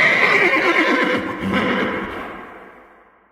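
A loud, close horse whinny rings out over galloping hoofbeats in a dramatized racecourse scene with the King's horse rounding the bend, then fades away as the horses pass.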